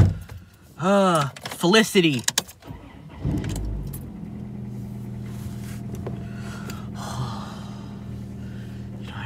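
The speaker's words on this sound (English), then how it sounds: "I gotta start the car up" Keys jangle and a person breathes hard. Then a car engine cranks and catches, settling into a steady low idle that runs on. A brief spoken word comes over the rumble.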